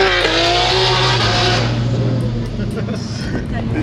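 A Chevrolet Corvette engine roars and revs loudly up close, a harsh sustained blare that eases back toward the end, with a voice talking over it.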